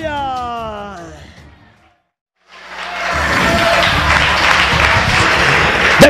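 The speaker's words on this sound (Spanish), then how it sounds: "dele ofrenda de palmas al Dios de Abraham" A church congregation clapping hands in worship, a dense, loud wash of claps and crowd noise that swells in after a spoken phrase and a brief pause, then holds steady.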